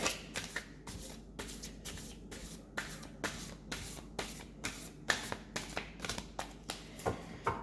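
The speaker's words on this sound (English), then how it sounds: "I'm going to try and shuffle them without spreading them all over the place." A deck of playing cards shuffled by hand, giving repeated crisp riffling bursts in a steady rhythm, close and fairly quiet, with no talking.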